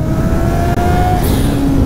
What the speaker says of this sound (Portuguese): Ó o bagulho acelerando